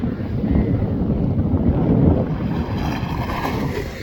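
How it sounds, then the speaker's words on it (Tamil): Heard from the shore, a fishing boat heads out to sea, lost in heavy wind rumble and surf, a loud continuous low roar over the whole stretch with no voices. "இந்த போட் கடலுக்கு போகுது"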